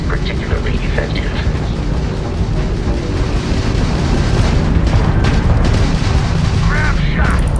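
Enemy Crimson Fleet ship weapons firing in a space combat video game, heavy booming blasts and crackling explosions rumbling continuously and loudly, with a voice speaking over the barrage.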